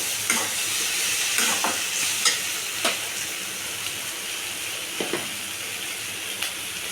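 A spoon scrapes and clatters through chicken curry with rock salt and brinjal in a pan, giving irregular stirring knocks over a steady sizzling hiss from the pan, heard close with no talk.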